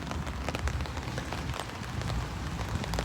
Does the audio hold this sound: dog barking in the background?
no